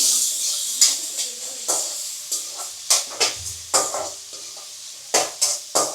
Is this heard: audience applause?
no